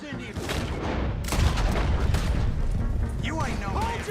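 Dense game gunfire from Red Dead Redemption 2, a rapid fusillade of shots and booms in a loud western firefight, continuous throughout with shouting voices mixed in.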